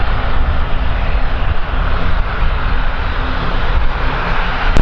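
An airliner taking off or landing at Kagoshima Airport roars loud and steady for several seconds, a broad sustained engine noise with no voices.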